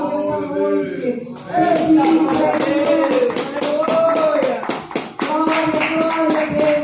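Dense, steady clapping from a church congregation fills the room, with singing and voices carrying over it throughout.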